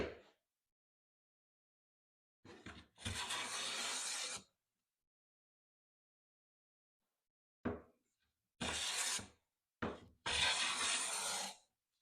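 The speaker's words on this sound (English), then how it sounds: "Almost full width shaving there." Veritas smoothing plane shaving wood, several separate rasping strokes, each a second or two long, with quiet pauses between, near and clear.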